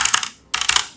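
A brief, close run of crisp computer keyboard typing: a quick cluster of clicks, a short pause, then another burst of keystrokes.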